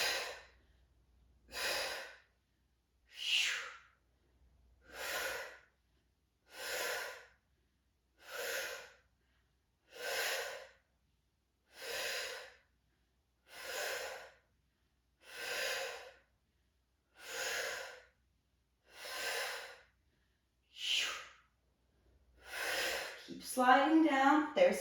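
Regular, close breaths accompany exercise-ball crunches in a core workout. There are about fourteen evenly spaced, breathy inhales and exhales, and a burst of louder, rougher noise comes at the end.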